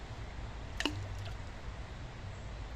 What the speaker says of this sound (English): So I'm going to throw this in the water